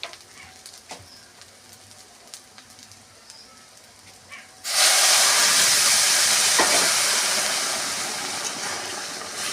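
Water poured into a hot pan of fried rice and prawns for pulao sets off a sudden loud, steady hiss that lasts to the end, following a few seconds of quiet frying.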